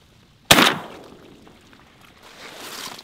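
A single sharp shotgun blast cracks out during a diver duck hunt on a large North Dakota lake, loud and near, then decays into a long open-air echo with wind noise trailing after.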